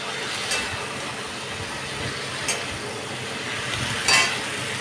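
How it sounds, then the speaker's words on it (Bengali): A steady, even sizzling hiss of ingredients frying in a pan for a Bengali lote fish and potato curry, continuous and fairly close, with a few faint stirring knocks. "এবার এগুলো আমি ভালো মতো ভাজতে দিলাম।"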